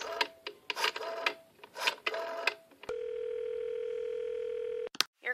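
In a radio drama, a telephone dial tone hums steady and unbroken for about two seconds, right after a stretch of talk, then cuts off sharply.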